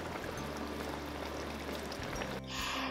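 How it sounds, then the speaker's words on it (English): Pork belly fat stock is ladled from a simmering pot, a close, continuous liquid pour and trickle that ends with a short splash near the close. "we're gonna steal about 5 tablespoons of pork belly's fat stock from the simmering pot"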